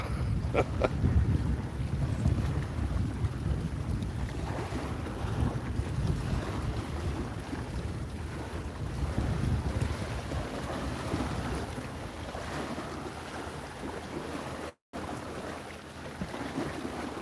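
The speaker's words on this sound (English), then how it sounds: "Ooh, that wind is terrible." Strong wind buffets the microphone beside a river tributary, a steady low roaring rumble with gusting surges throughout and no talking.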